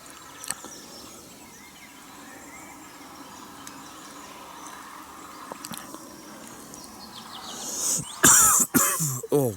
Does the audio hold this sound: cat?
no